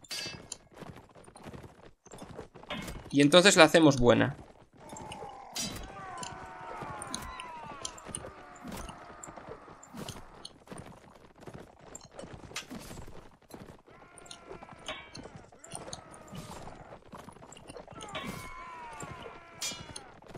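Horse hooves clatter across a Mount and Blade medieval battle, with steady clip-clop beats, a short loud neigh early on and distant shouting from soldiers. Someone speaks briefly over the action.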